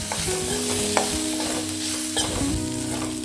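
Plantain slices for vazhakkai fry are stirred in a pan with butter: a steady sizzle with repeated scraping and clinks of the spatula, close and fairly loud, no voices.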